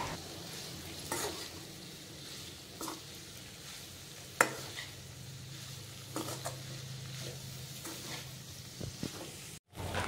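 Cauliflower sabzi being stir-fried in a pan: a soft ongoing sizzle broken by scattered spatula scrapes and taps against the pan, fairly quiet and close, with no one talking.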